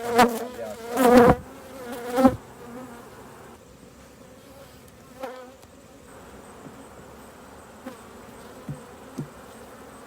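Honey bees hum and buzz around an open beehive at honey-harvest time, a steady insect drone with a few louder close passes near the start and scattered faint bumps later.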